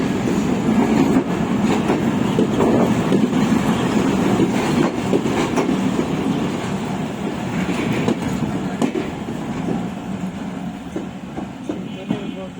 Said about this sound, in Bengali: দেখো, একটু অন্য টাইপের ট্রেনটা, একটু অন্য টাইপের।